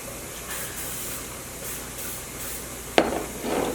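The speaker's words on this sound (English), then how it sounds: "I'm gonna spray my hands with cooking spray." A can of cooking spray hisses in short bursts onto hands in a kitchen while making Rice Krispie and Froot Loop treats, faint against room noise, followed by a sharper hand or can knock.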